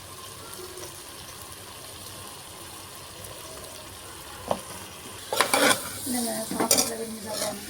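Soaked, washed small soya chunks frying in a pan of masala for meal maker biryani, a soft background sizzle that swells near the end with louder stirring scrapes and clinks.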